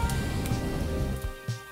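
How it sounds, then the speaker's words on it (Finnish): Acid rain pours down in the Roblox game Horrific Housing, a steady dense patter of rainfall with a few soft thuds, fairly loud and continuous with no talking. "ja nyt sataa happoa taivalta."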